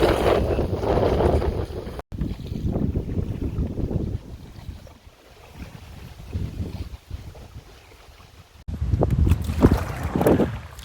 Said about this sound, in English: we're paddling through the lily pads here, and the wind is picking up like crazy